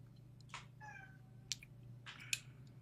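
A cat meows a few times, faint and close, over a steady low hum in a quiet indoor room, with a couple of sharp clicks between the calls.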